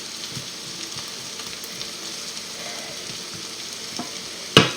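Potatoes and tournedos steak cooking together in a hot pan give off an even, close crackling sizzle, with a sharp utensil clatter right at the end.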